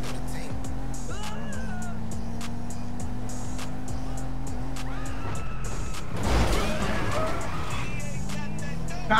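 A car driven in the video game GTA 5 revs with a steady engine drone and shifting gear tones, then a loud crash-like burst near the end, with people talking over it.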